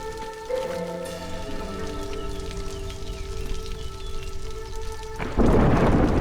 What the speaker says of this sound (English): The storm is coming and people don't have roofs.